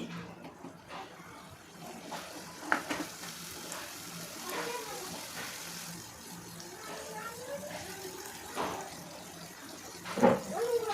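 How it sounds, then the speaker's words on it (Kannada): Chopped green chillies are stirred in a frying pan for a potato palya, giving a steady low sizzle with scraping stir strokes, fairly quiet, and a brief clatter near the end. "ಹಸಿಮೆಣಸಿನ್ಕಾಯಿ ಸಣ್ಣದಾಗಿ ಕಟ್ ಮಾಡಿ ಇಟ್ಕೊಂಡಿದ್ದೀನಿ, ಹಾಕಿ ಇದನ್ನು ಚೆನ್ನಾಗಿ ಬೆನೆಸಿ"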